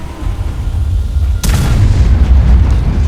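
A single heavy KV-1 tank cannon blast cracks out suddenly midway, followed by a deep rumbling roar over a constant low engine-like drone.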